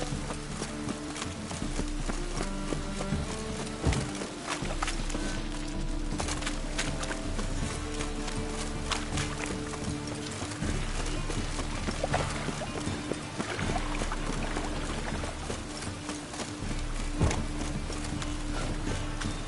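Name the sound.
horse hooves clip-clopping in a video game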